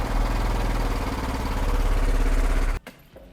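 A Piaggio Medley S 150 scooter engine runs at a steady, close idle with an even low throb, then cuts off abruptly, leaving a brief faint rattle and near silence.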